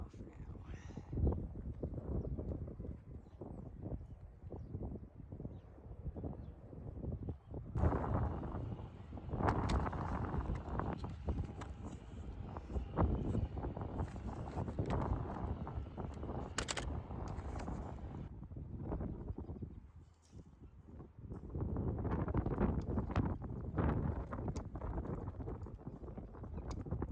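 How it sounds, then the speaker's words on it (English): Strong wind blows steadily outdoors, roaring and buffeting against the microphone in loud continuous gusts with brief lulls, while someone works on removing wire from around trees on a sheep pasture. "The wind was really blowing outside"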